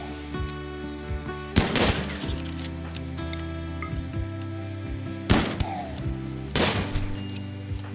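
Gunfire in the colony game RimWorld, a few sharp isolated shots cracking out seconds apart over a steady droning musical background.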